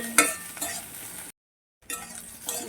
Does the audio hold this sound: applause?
no